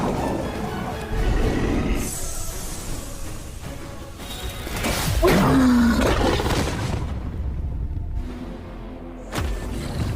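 Roar of a crystal-purple lion king in an animated fight scene, a loud, drawn-out bellow rising mid-clip amid whooshing battle effects, sustained then cutting off abruptly near the end.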